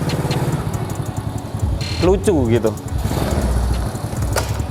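Small modified Honda Astrea Grand motorcycle running with a steady low engine rumble beneath a person talking, the engine note holding constant throughout.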